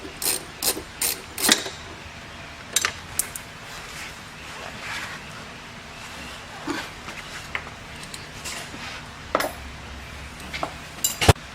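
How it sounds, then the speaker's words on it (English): A hand ratchet backing out a bolt on the reverse gate of a Yamaha jet pump, short bursts of clicking pawl strokes repeated at irregular intervals with quiet pauses between, close and fairly crisp. "now we're going to remove the other bolt on the right side."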